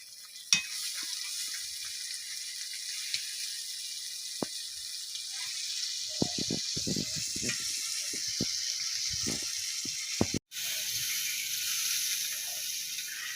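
Meat being sautéed in a pan, a steady sizzle broken by scraping spatula clicks, then a brief dip and a splashier hiss as water goes in, close and without talk.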